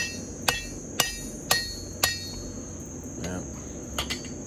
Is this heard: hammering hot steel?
yes